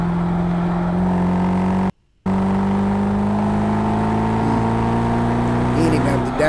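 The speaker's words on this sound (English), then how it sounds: "Alright, let's go. Punch." A Mercedes SLS AMG engine accelerates hard, a loud, steady roar with a strong low tone that climbs through the revs, briefly cut by a gap of silence, then pulls on.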